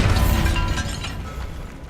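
A Bombarda blasting spell goes off in Hogwarts Legacy, a loud, close booming explosion with crackling debris that decays over two seconds, with no talk over it.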